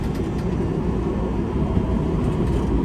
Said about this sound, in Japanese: 電車動きます。